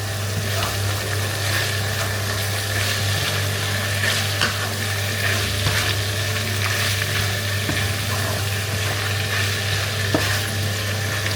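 Egg Manchurian sizzles steadily in a hot pan while it is stirred and mixed, a loud continuous frying hiss with scraping of the spoon, close up and without talk.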